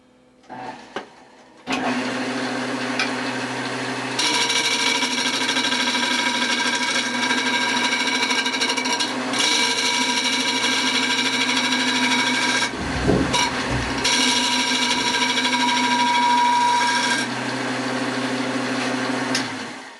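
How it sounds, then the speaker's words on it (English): A segmented wooden bowl spins on a lathe while its surface is turned flat with a 1.5-inch scraper. A loud, steady motor whine with tonal harmonics runs throughout, with a brief drop and rumble about two-thirds of the way in. "First thing we're going to do is turn this surface flat."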